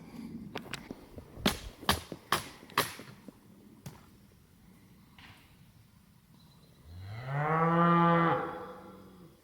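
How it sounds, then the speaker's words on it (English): Several sharp clicks and knocks come first, then a cow moos once, long and drawn out, standing out clearly at the end of an outdoor scene on the Colorado Trail near Salida. "It's distant cows."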